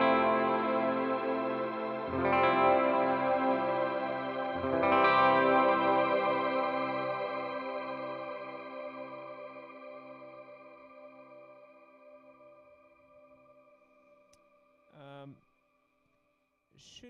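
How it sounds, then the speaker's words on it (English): Electric guitar played through a Stereo Wet Reverb shimmer pedal: two strummed chords ring out into a long, lush, octave-shimmering wash that slowly decays, followed by a brief plucked note near the end. "And the stereo wet reverb."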